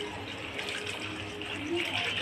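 Water is poured into a vessel to wash leafy vegetables, a continuous splashing gush that stays steady and swells slightly toward the end.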